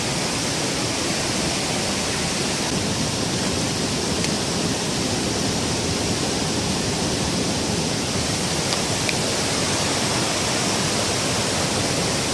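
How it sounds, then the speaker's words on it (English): Waterfall at Devloli dam near Rasayani, a steady, loud broadband roar of rushing water that continues unbroken throughout, with no voices. "So this is the waterfall"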